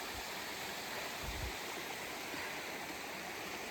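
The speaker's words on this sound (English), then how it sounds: "Same stream." A mountain stream on the Appalachian Trail flows with a steady, even rushing hiss, fairly faint and unbroken throughout.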